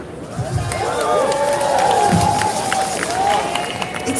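At a Friday night march of solidarity in Denver, a large crowd cheers and shouts in a loud, continuous roar with voices rising and falling, close and enveloping.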